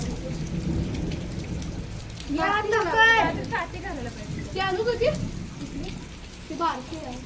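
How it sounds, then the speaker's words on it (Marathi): Steady pre-monsoon evening rain falls throughout, a dense hiss close by, while a voice speaks over it in the middle. "आता वळवाचा पाऊस चालू झालाय"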